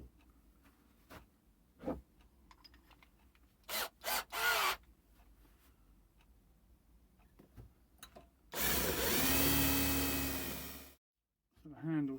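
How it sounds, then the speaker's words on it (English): A power drill fitted with a 22mm Forstner bit bores a hole in wood for a garden dibber handle, one loud sustained whir of about two seconds that stops abruptly, with quieter scrapes and clicks and brief talk before it. "I'm just going to use a 22mm Forstner bit."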